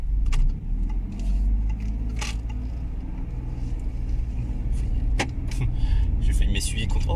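A 2018 Peugeot 3008 with a 1.2 PureTech 130 hp petrol engine idles with a low, steady rumble, joined by jangling keys and cabin clicks while someone talks.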